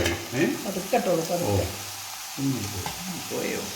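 A spoon stirs lemon pickle in a hot pan, giving a soft sizzle with scraping strokes while a voice talks faintly underneath.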